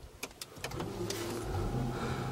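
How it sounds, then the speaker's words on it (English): Rolls-Royce started with keyless ignition: a few soft clicks, then the engine catches and settles into a steady, low idle hum, heard up close inside the car. "so we'll go ahead and start the car"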